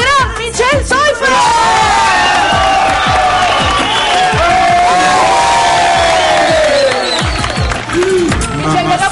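A studio audience on a Spanish-language reality show cheers, whoops and claps in a loud, continuous crowd roar welcoming a singer, with shouting voices over the noise.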